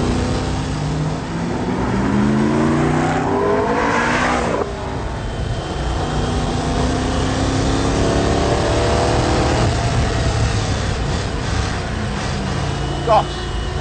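A Lola T70 replica race car accelerates hard, its engine note climbing in pitch through repeated rising sweeps and shifts, loud and close throughout, with a person talking over it.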